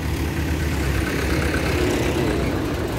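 A 2020 tractor, model 3630 Super Plus, idles at an outdoor tractor market in Moga with a steady, loud, low diesel rumble and no break.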